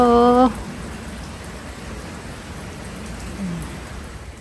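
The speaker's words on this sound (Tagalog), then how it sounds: "Habang hinihintay nating tumila yung ulan." Steady, fairly loud rainfall hisses continuously throughout, with a brief tonal sound at the very start.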